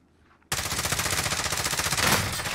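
Rapid automatic gunfire in Call of Duty Warzone bursts in suddenly after a quiet moment and rattles on continuously, loud and close.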